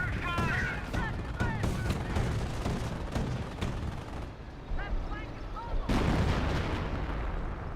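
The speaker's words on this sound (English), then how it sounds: "No, that's sector artillery." Heavy sector artillery barrage in the Company of Heroes video game, a dense run of booming shell impacts and blasts at varied distances, continuous and loud, with someone talking over it.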